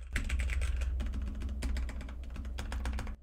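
Rapid typing on a Red Dragon K617 keyboard with red linear switches, a close, steady clatter of smooth keystrokes in quick bursts with brief pauses, heard alone without talk.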